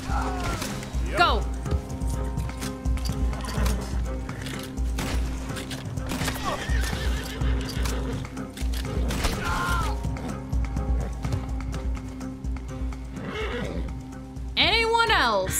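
A horse whinnies loudly amid hoofbeats, clanks and game sound effects, with someone talking over much of it.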